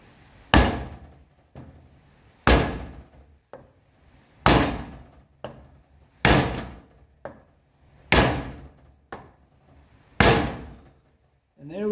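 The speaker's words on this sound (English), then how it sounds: "And you can tap this in with a wooden block and a hammer" A hammer strikes a wooden block in a steady rhythm, tapping a seal into a 1985 Mercedes 300CD's front suspension, about six sharp knocks roughly two seconds apart with softer taps between, close by.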